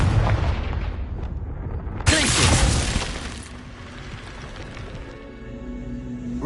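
Fiery Confringo spell blast in the Hogwarts Legacy video game: one loud, bright burst about two seconds in, lasting roughly a second over steady game ambience and rumble, then fading into a lingering tonal hum.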